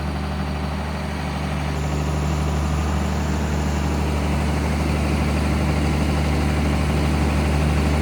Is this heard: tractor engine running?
yes